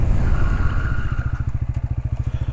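A motorcycle braking hard in an aggressive stop demonstration, its engine note chugging in a rapid rhythmic pulse that slows and stutters as the bike decelerates, close and fairly loud with no talking.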